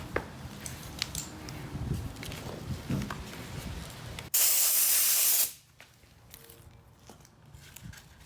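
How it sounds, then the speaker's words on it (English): An air compressor blows dirt out of an RC car in a short, loud continuous blast of hissing air lasting about a second, between quieter handling clatter and small knocks. "After I'm finished just blowing everything out with the air compressor, then I'll remove the air filter, clean that out."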